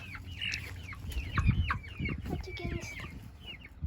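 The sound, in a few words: chickens clucking in chicken coop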